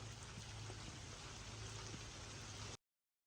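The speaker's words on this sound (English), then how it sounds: "it just started to rain out of nowhere." Rain pours down outdoors over a walkway under stone work, a steady dense patter and hiss that holds evenly, then cuts off sharply near the end.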